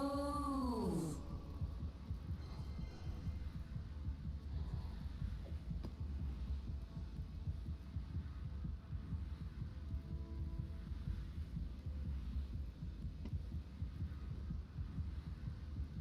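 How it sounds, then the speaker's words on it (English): Heartbeat sound in the Path of Exile video game, a low, soft, steady throbbing pulse that repeats throughout against a quiet hum, with a brief tonal game effect at the start. "You can like hear that heart beating."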